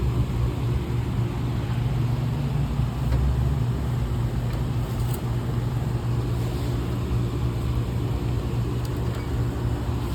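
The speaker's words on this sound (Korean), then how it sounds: "에어컨 소리 때문에 시끄러워서 좀 죄송합니다." Steady indoor air conditioner hum, a constant low drone with a continuous whooshing airflow that holds unchanged throughout, fairly loud and with no talk.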